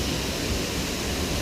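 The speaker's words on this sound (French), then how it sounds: "On va vous la faire voir la cascade" A small waterfall with only a little water flowing, heard up close as a steady, even broadband rush of falling water with no pauses, filling the short moment alone.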